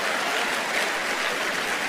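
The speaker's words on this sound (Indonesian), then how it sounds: "Tepuk tangan buat yang merokok ya." An audience at a church sermon claps together in a dense, continuous burst of applause lasting a couple of seconds.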